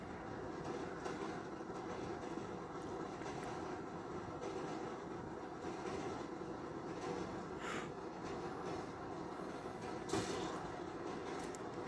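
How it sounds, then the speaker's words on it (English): A train rolls past with a steady, low rumble and rail clatter. The sound is faint and distant, with a few brief squeals and clanks along the way and no talking. "Can kill the train conductor, but you cannot stop the train."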